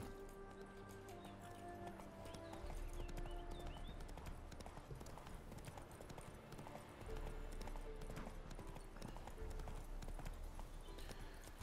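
Hooves of Roach, a horse in The Witcher 3 game, clip-clop in a steady galloping rhythm, loud and close, over a layer of in-game music with a brief snort or whinny.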